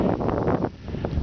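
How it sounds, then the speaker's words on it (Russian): Blizzard wind blows across open snowy ground near a village, a rough, buffeting roar close to the microphone with a brief dip before gusting back up. "Метель усилилась."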